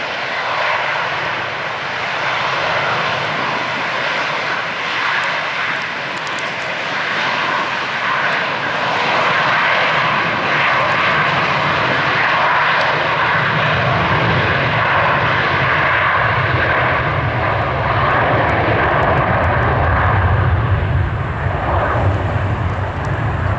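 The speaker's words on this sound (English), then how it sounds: "this Delta's jet is ready to go, so hold your ears" A Delta jet airliner takes off at ATL airport, a loud, continuous roar of jet engines that holds steady and broad for over twenty seconds, heard from beside the airport fence.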